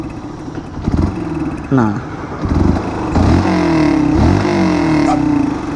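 Yamaha New Vixion motorcycle fitted with a Tridente F20 Raptor exhaust in silent mode, revving up from idle in a few throttle blips into a steady held rev, fairly close, with a brief spoken word near the start.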